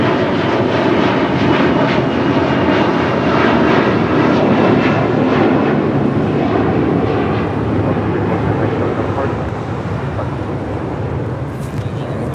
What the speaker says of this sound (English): Here on the south side as the Atlas Air continues her taxi on Charlie.